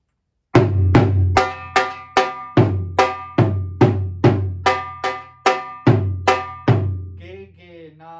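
Steady rhythmic dhol drum strokes in a na-ge pattern, loud and resonant with a ringing metallic edge, about a dozen evenly spaced hits followed by a softer tail.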